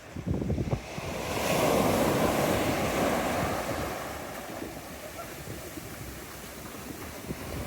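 Waves break and wash up on a Peloponnese beach in January, with a loud surge of surf rising and then settling into a continuous rushing hiss, all buffeted by wind on the microphone.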